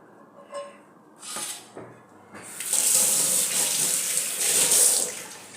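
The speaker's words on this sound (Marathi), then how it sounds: "याला आता परत आपण स्वच्छ साबणाने घासून धुवून घ्यायचं आहे" A cast iron griddle is washed with soap under a running tap: a few brief splashes and scrubbing sounds, then a steady, close gush of tap water flowing over the metal.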